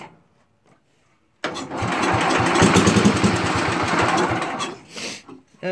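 A Super 12 chainsaw running off its gas tank bursts into a loud, rough two-stroke buzz after a quiet start, holding a steady close roar for a few seconds before dropping off.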